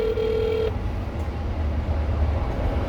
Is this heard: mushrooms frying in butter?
no